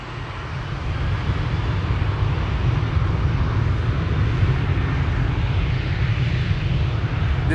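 A KLM airliner departs Amsterdam Schiphol for Venice, its engines producing a loud, steady, broadband roar that holds close and constant throughout with no voices.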